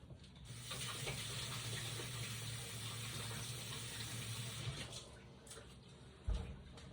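Hot water runs from a kitchen tap during margarita preparation, a steady close hiss of flow lasting several seconds before stopping, followed by a brief clunk.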